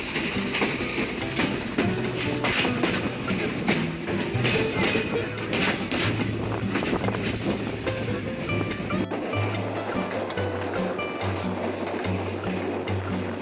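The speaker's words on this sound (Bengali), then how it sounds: "আমাদের ট্রেনটি ভেড়ামারা রেলওয়ে স্টেশন প্ল্যাটফর্ম ত্যাগ করলো" Intercity Rupsha Express pulling away from Bheramara railway station, with a steady loud rumble and rhythmic clatter of wheels on track, heard from inside the train.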